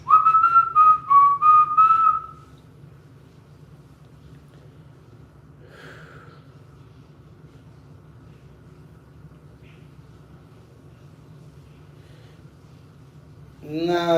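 A person whistles a short wavering tune for about two seconds, then near silence with a faint low hum, and a brief whistled burst returns at the end.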